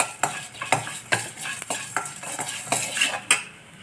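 Lentils, black pepper, cumin and chillies dry roasting in a pan over a low flame, with repeated rhythmic scrapes and clinks of a metal spoon stirring against the pan, no voices.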